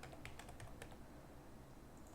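Rapid, uneven clicking of keys on a computer keyboard, quiet and close, in short bursts that trail off into faint background hiss.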